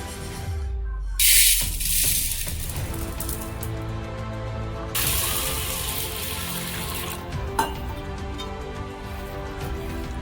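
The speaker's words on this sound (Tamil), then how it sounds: "சிறுபருப்பை வறுத்தாச்சு இப்போ பாத்திரத்தில் மாற்றி கழுவி அப்புறம் வேக வச்சுக்கணும்" Split moong dal being washed with water in a vessel, a close running-water wash with splashing bursts and a steady wet swirl throughout.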